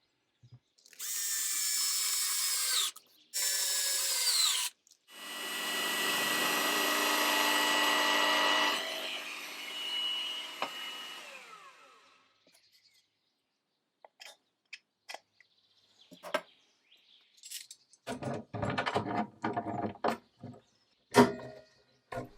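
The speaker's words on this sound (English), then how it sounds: "I'm shaving off a little bit and making a notch" A wooden board being shaved to cut a notch for a brass plate: a loud, rough power-tool-like grinding run in bursts over the first ten seconds, then scattered short scraping and tapping strokes, close up with no talking.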